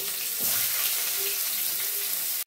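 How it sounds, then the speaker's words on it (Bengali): Chopped onion in hot oil in a wok fries with a loud, steady sizzle that holds close and continuous, broken by a few stirring scrapes and ending in a sudden clatter. "একটু সামান্য পেঁয়াজ কুচিটা ভালো করে নাড়াচাড়া করে ভেজে নেব।"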